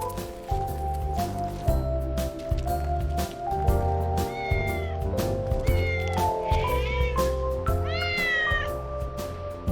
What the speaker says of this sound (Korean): 지붕에 모인 길고양이들이 뭔가를 기다리는 듯합니다.